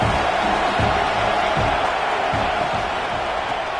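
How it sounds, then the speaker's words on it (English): A home crowd roars at a football game, a loud continuous wash of cheering that fills the whole stretch without letting up, with faint low thumps beneath it. "how nice is it to have the home crowd going absolutely bananas"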